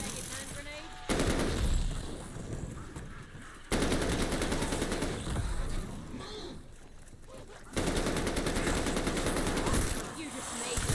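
Heavy automatic gunfire in Call of Duty Vanguard Zombies, loud sustained bursts broken by short pauses, with a voice talking underneath.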